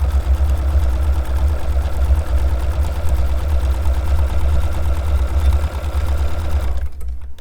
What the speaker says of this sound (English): I'm just gonna start sewing.